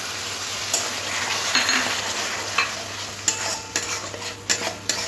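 A spatula scrapes and clinks against a pan as a chilli, cumin and garlic spice paste fries, soft sizzling underneath a series of sharp, irregular stirring hits up close.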